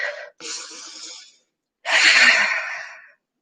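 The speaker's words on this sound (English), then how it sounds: "Take a big breath, you guys." A deep breath taken during yoga practice: a short inhale, a longer slow exhale, then a second full, loud exhale after a pause, close and alone without talk.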